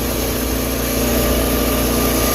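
A steady, continuous engine roar holds at a constant loud level, with a low rumble and no clear rise or fall in pitch.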